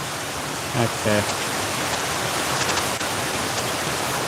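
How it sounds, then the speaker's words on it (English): Heavy rain pours steadily on a roof in a dense, constant hiss, with a brief spoken word near the start. "It is pouring rain."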